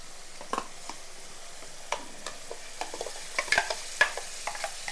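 Ginger-garlic, cashew and tomato paste frying in a pan, with a soft steady sizzle broken by sharp spattering pops and the scrape of stirring, fairly close and without voices.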